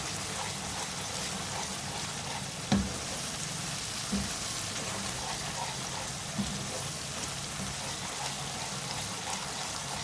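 Brain masala with tomatoes frying in a pan, a faint continuous sizzle with a few soft knocks as the tomatoes are mashed, heard alone.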